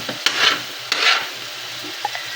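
Coconut milk simmering in a pot while it is stirred to make latik, with the oil separating out: two rasping scrapes from the stirring spoon over a soft sizzle, plus a few faint clicks.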